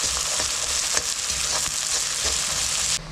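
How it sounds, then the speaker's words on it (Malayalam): Ginger and garlic sautéing in a pan for mutton pickle give off a steady, close sizzle with occasional stirring scrapes, continuing alone without talk. "ഇനി ഇത് രണ്ടും കൂടി നന്നായിട്ടൊന്ന് വഴറ്റിയെടുക്കും"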